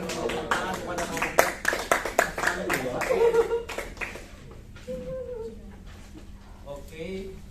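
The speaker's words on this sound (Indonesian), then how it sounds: "Silakan tepuk tangan kepada kelompok" A classroom audience of students claps for a student group after their presentation, a short scattered burst of hand claps lasting a few seconds before fading, with voices talking over and after it.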